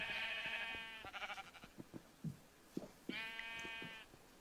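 Sheep in the video game Sheep Quest bleat in two distinct wavering calls, separated by a few soft clicks and thumps, all fairly quiet and with no talking.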